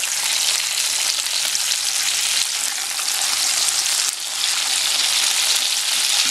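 A salmon steak sizzles in a pan over low heat with butter and olive oil, a loud, steady, close-up hiss that dips briefly once before carrying on, with no one talking.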